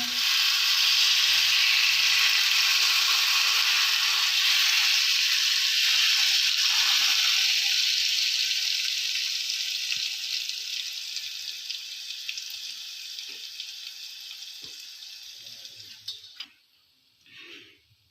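Loud, steady sizzling of tempering spices frying in hot oil for green chutney that gradually fades, ending with a few clinks and quiet near the end.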